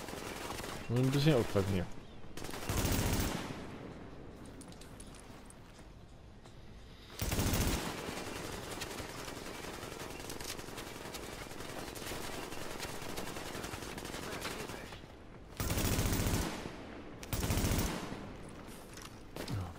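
Enemy gunfire in The Division, several loud bursts of automatic shots spaced across the stretch, with someone talking quietly in between.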